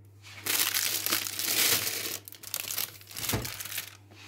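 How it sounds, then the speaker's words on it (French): A transparent plastic bread-baking dome shell is opened at close range, producing loud crinkling, crackling and crushing plastic sounds in two bursts, with no talking. "On va ouvrir la coque."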